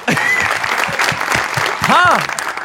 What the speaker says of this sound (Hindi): इनको तालियां.